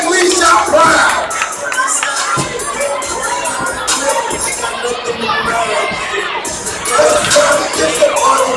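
A school morning-news crowd, many of them children, bursts into loud applause with cheering and shouting. The noise is dense and sustained throughout, with swells at the start and near the end.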